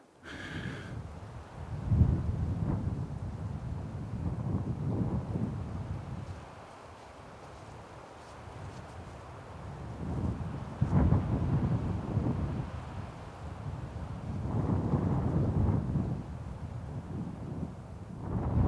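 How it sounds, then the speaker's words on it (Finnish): Fresh wind gusts across an open fell top in Lapland in summer, buffeting the microphone in low rumbling surges that swell and fade in waves over steady background noise, with no voices. "Täällä on muuten raikas tuuli."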